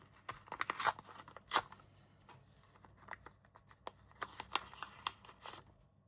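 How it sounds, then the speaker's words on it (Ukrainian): Crinkly tearing and rustling of thin plastic packaging, a series of sharp crackles and rips at close range, fairly quiet overall. "Беру пакетик і відкриваю."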